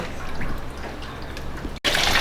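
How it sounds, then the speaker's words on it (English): Water rushing and splashing as a car radiator is flushed during a coolant flush, a steady close gush that briefly cuts out and then resumes loudly. "Now all we're gonna do is just flush out the radiator again."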